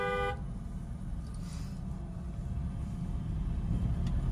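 A car horn toots at the start while driving through narrow lanes with blind turns, followed by steady road and engine rumble inside the car.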